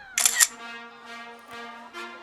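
A camera shutter clicks sharply at the start, a quick bright double snap up close, followed by a sustained tonal hum that fades in and out.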